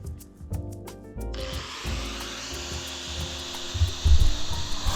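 A power tool whines steadily as it cuts an anchor bolt during a street light installation, starting with a sharp rise after a moment of ticking and holding a loud, constant grinding hum.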